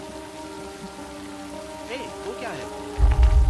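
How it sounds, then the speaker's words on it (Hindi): Heavy rain pours steadily in a Hindi-dubbed Hollywood action film scene, someone speaks briefly over the downpour, and a louder low rumble swells at the end. "बारिश बहुत तेज हो रही है।"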